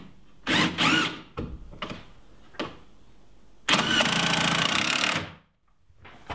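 A screw is driven at an angle through a wooden storage-shelf leg into the adjoining shelf in a workshop: a loud, steady power-driver whir of about a second and a half, following a few bursts of nearby talk and handling knocks.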